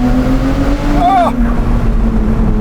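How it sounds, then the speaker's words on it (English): A Novitec-tuned Ferrari 296 GTS with a V6 hybrid engine accelerates, heard from inside as a loud, steady engine drone with a brief rising whine as it pulls, and an excited voice briefly exclaims. "Wow! Proper acceleration, this."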